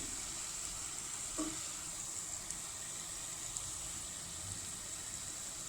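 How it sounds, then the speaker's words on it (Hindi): Jalebi batter frying in hot oil until crunchy gives a steady, even sizzle at moderate volume, with a few faint clicks and a brief soft bubble near the middle; no one speaks. "इनको हमने क्रंची होने तक फ्राई करना है"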